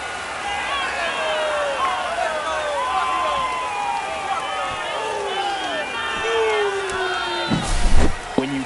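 A home baseball crowd at a Yankees game roars in sustained cheering after a walk-off home run in extra innings, broad stadium noise with whistles and shouts, briefly punctuated near the end by louder bursts.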